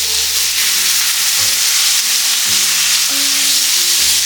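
Fish sears in a frying pan, a loud, steady close-up sizzle and hiss that runs unbroken throughout, with faint background tones beneath and no voices.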